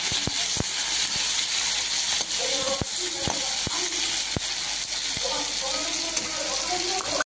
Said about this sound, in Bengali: আমি কাঁচা লঙ্কাটা ঢেলে দিয়ে মাছের তেলটা দিয়ে দেবো।